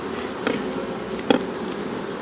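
Steady honeybee buzzing around an opened hive in Jamaica, with a couple of brief louder bumps or knocks near the start and middle as hive boxes are moved.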